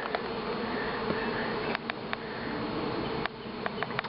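Honeybees swarm in large numbers around a blocked hive entrance during a trapout, a continuous close buzzing drone with individual bees zipping past now and then.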